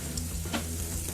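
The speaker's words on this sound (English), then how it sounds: "Oh, that's starting to sizzle." A beef burger patty sizzles and crackles steadily on a closed grill, a dense continuous frying hiss with small pops, fairly quiet and without voices.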